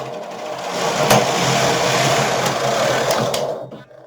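A Silver Reed SK 280 knitting machine carriage slides across a full row of needles, making a steady close mechanical whirring and clattering that lasts about three seconds, with a few sharp clicks along the way, before it stops abruptly at the end.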